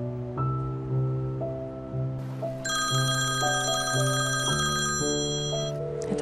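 An unanswered telephone rings repeatedly in a steady electronic ring pattern over a layered musical score, with no one picking up; no voices are heard.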